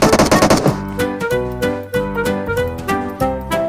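PUBG Mobile gunfire: a loud, rapid automatic burst of shots up front, then heavier spaced blasts that ring out over the rest of the clip, close and with no talking.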